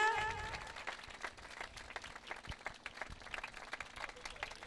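Church audience clapping while a pastor is called up to the stage, uneven and fairly faint, with separate sharp claps standing out rather than a full loud ovation.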